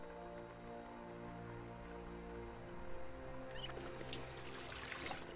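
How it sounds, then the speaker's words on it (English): A faucet in a role-play video game starts running partway through, a faint trickling splash that rises over a low, constant droning hum and continues to the end. "I love that it makes faucet sound."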